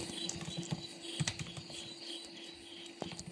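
Someone types a G++ compile command into a terminal on a computer keyboard, with quick, light key clicks in an uneven rhythm, close and fairly soft.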